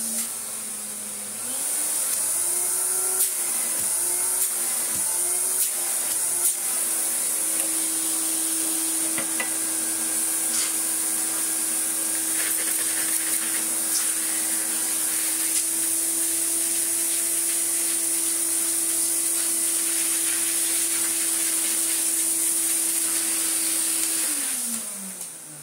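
A vintage Electrolux Sup'Air Z237 vacuum cleaner runs steadily for about 23 seconds after switching on, a loud, close, constant motor whine with airflow hiss, with slight changes in tone as it works, then winds down at the end.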